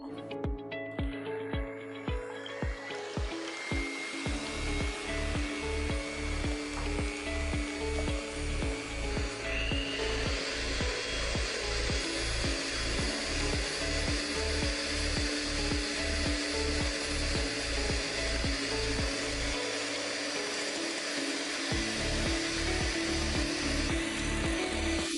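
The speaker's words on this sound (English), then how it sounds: "you can proceed to whisk 4 egg whites at high speed with a pinch of salt" Electric mixer whisking four egg whites with a pinch of salt at high speed for a Margherita cake, with a loud, steady motor whine, fast rhythmic beating against the bowl and a pitch that shifts as the foam builds.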